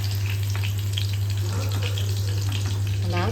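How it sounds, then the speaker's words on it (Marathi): Green chillies fry in hot oil for batata vada, giving a continuous close sizzle and crackle over a steady low electrical hum. "आता यामध्ये थोडेसे मिरच्या मी तळून घेते"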